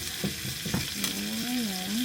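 Corned beef frying in a pan, a steady close sizzle with a few scraping stirs, while someone talks over it.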